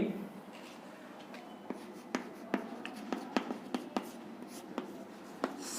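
Chalk or marker writing on a board in a chemistry lecture room, a quiet run of short taps and strokes scattered irregularly over a faint room hiss, with no talk.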